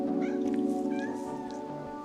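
Young kittens meow repeatedly on a farm while being bathed, their high, wavering cries close and fairly loud over a steady background hum.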